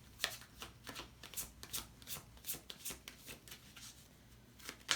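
Tarot cards are shuffled close up in quick, soft riffling bursts, a run of about a dozen crisp flutters heard alone at low volume.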